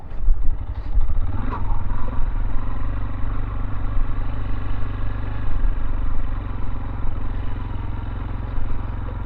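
Tekken 250 motorcycle riding along a rural village road in Podillia, Ukraine, its engine a steady close drone that rumbles on throughout, with faint clatter from the rough surface and no talk.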